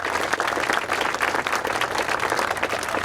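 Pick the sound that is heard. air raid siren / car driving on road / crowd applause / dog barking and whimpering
crowd applause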